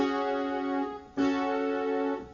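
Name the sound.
keyboard chords with 9-3 resolution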